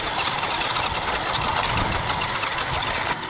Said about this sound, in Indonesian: wait, jangan bergerak, ada motor belakang.